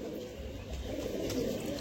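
A Madras pigeon at a loft, cooing softly in a short burst of low, throaty calls against faint background noise.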